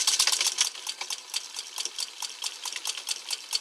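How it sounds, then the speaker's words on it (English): Old Singer sewing machine stitching fabric, a fast, steady run of light mechanical clatter and ticking, close and fairly quiet, with no talk. "I can start to sew."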